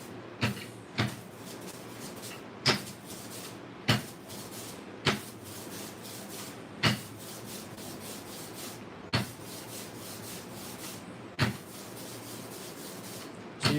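Two ink rollers roll color out on a slab for woodblock printing, a steady rubbing, sticky rasp broken by a sharp tap every second or so as the roller is set down or lifted, close and alone.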